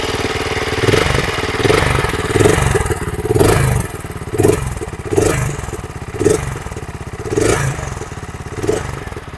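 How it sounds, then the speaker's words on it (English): A BSA Scrambler 650 single-cylinder motorcycle starts and idles close by, its loud, lumpy exhaust throbbing steadily with regular throttle blips swelling roughly every second, with no voices. "The exhaust sounds really good."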